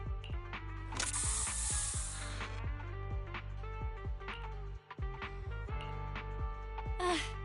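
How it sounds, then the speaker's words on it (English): A hissing burst of spray in the video game Zenless Zone Zero rises over mechanical game sounds and music, lasting about a second and a half, with a second short spray near the end. "Here, have a taste of the special Bangboo spray."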